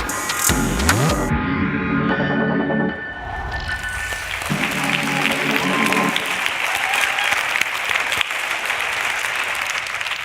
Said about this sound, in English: Thank you for that very big round of applause for our first finalist, Kaimate.